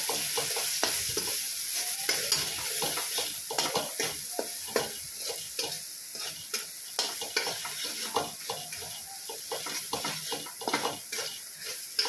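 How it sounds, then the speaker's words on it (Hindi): Dal masala with coriander powder and salt stirred in a hot pan: a continuous sizzle broken by repeated scraping spoon strokes in an uneven rhythm, close and clear, with no voices. "इसमें धनिया पाउडर डाल देंगे दो चम्मच और अब इसको अच्छे से मिक्स कर लेंगे"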